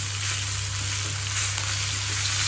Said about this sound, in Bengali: এখানে জিরে আর শুকনো লঙ্কা ফোড়ন হিসেবে দিলাম